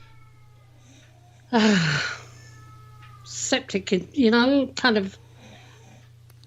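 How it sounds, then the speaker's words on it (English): A house cat wailing downstairs to be let out, a long drawn-out yowl followed by several shorter rising cries, heard in the background of a radio show under a steady low hum. "if you hear something in the background that sounds like wailing, that's my cat downstairs screaming, wanting to be let out."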